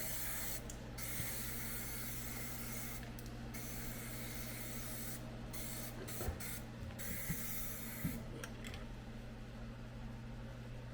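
Surface Shield undercoating sprayed from a can in light dusting passes, a steady hiss running throughout with brief pauses and a few faint knocks and handling sounds.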